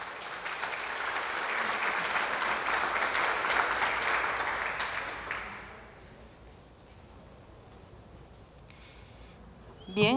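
Applause from the audience at an International Women's Day tribute in Moquegua, strong for about five seconds and then fading to scattered claps and quiet room tone.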